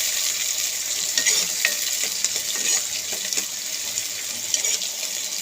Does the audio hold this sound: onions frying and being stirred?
yes